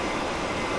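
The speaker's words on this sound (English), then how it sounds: "The train's really loud in that bit, isn't it?" Train running in Train Sim World 5 on the West Coast Main Line between Preston and Carlisle, a loud, steady rumbling roar that holds evenly throughout with no talk.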